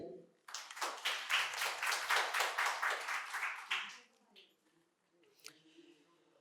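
An audience at a quiz competition held at Santiniketan Medical College and Hospital bursts into loud, sustained rhythmic clapping for about three seconds, then fades into a few scattered claps and faint background noise.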